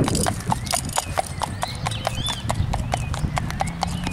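A dark bay horse trots, its hooves striking in a quick, even clip-clop rhythm, close and clear, with someone speaking quietly underneath.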